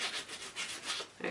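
Rubbing on a paper craft piece for a Christmas bauble and card set on a mat, a steady close scratchy friction in repeated strokes, with a brighter surge at the end.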